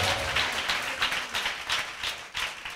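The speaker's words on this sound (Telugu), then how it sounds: "కొట్టాలి మరి, కొట్టాలి చప్పట్లు" A church congregation claps together in a fast, steady rhythm of sharp hand slaps, loud and close, the beats repeating without pause and no voices over them.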